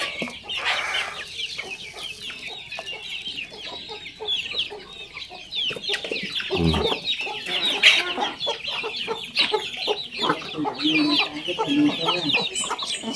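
Native chickens cluck busily while being fed ground corn, with many overlapping clucks and short calls from birds close by, and an occasional crow in the mix.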